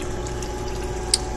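Water flowing back into a column on lab-volt process trainer equipment with a pump running, a steady low liquid rush and hum with one brief sharp click near the end.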